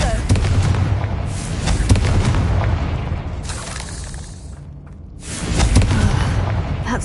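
Confringo fire spell blasts in the Hogwarts Legacy video game, loud booming explosions in quick succession over a dense, continuous rumble of game effects.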